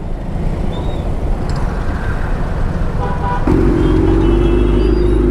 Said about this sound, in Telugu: ప్రతిసారి ట్రాఫిక్ జామ్ ఉంటుంది ఇక్కడ సిగ్నల్ పడ్డ ప్రతిసారి.